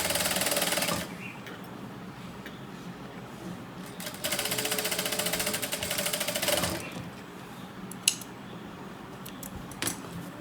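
A sewing machine stitches a sleeve in short bursts, with a rapid mechanical chatter that starts, stops and starts again. Small clicks and handling noises fill the gaps between runs.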